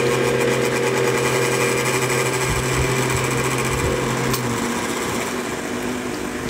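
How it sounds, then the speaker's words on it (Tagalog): An electric fan runs steadily in an indoor room during a livestream, a constant close whirring hum with a faint rattle that holds unchanged throughout. "Rinig yung electric fan."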